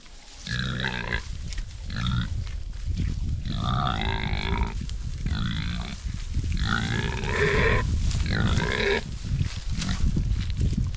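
Kune Kune pigs grunt and squeal repeatedly at close range, loud, overlapping calls in an irregular run of bursts with little pause between them.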